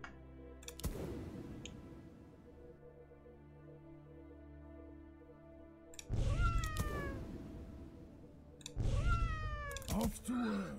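Two distinct cat meows from the video game Legion TD 2, each a bright rising-falling call over a steady game soundtrack hum, the second a few seconds after the first, with a short click before each.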